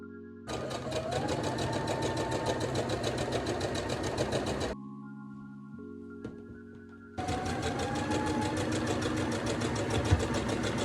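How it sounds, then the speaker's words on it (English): Sewing machine running through curtain fabric in long continuous bursts of fast, rhythmic clatter, with a brief quieter hum and pause midway before stitching resumes close by. "I pinned and sewed the 3 curtains."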